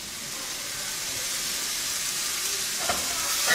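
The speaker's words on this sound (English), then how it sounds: "Once it gets sizzling a bit, about 2 minutes more, and that's usually fine." Oregano frying in a pan gives a steady, soft hiss of sizzling oil that holds even throughout, with faint crackles near the end and no voices.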